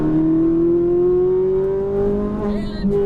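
A Ferrari 458 Italia accelerates on a race track, its engine note rising steadily in a loud, continuous wail close by, with a brief tire squeal near the end.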